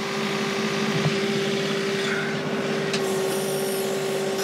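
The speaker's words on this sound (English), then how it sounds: "If I'm sitting still, this sounds like it's being hard on the tractor." A John Deere 2038R compact tractor with a 270B backhoe sits idling at about 2,000 rpm, its engine running as a steady, even drone with a constant tone and no other sounds.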